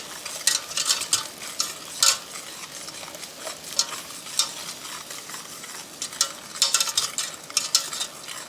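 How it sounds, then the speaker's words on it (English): Egg mixture for ice cream whisked vigorously in a bowl, a busy stream of light clinking and scraping strokes with sharper bursts, fairly close, no voices. "she has to mix, and she has to mix vigorously and thoroughly"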